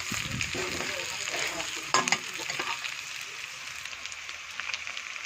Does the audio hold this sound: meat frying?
yes